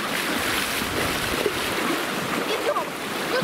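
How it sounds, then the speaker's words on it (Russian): Large sea waves surging and washing close by at the shore, a continuous broad roar of churning surf mixed with wind buffeting the microphone. "Тут оставаться, волны большие."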